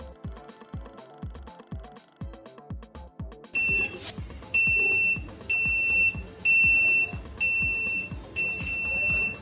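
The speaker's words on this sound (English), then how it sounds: "The onboard buzzer sounds an alarm" An onboard buzzer alarm on an ultrasonic-sensor flood detector fires after a run of regular clicking pulses, then sounds a loud, shrill electronic tone in repeated long beeps with short gaps, close and clear, with no talking.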